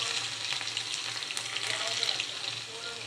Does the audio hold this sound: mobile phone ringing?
no